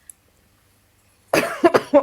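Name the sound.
cough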